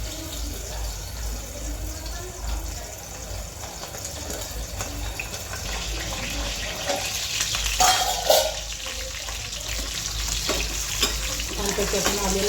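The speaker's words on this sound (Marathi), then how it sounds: "आपण आलूला पहिल्यांदा छानपैकी फ्राय करून घ्यायचं आहे" Potatoes frying in a pan for a home-style aloo matar dish, a steady sizzle running throughout with occasional stirring scrapes, close and moderately loud, no talking.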